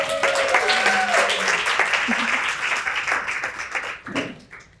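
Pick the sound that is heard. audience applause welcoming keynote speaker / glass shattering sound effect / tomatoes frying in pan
audience applause welcoming keynote speaker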